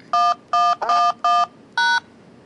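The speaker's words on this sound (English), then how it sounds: "Please enter your PIN, followed by the pound sign to complete your authentication." Five crisp telephone keypad tones sound in quick succession as a PIN is entered for phone authentication, each a short clean beep, loud and close with no talk.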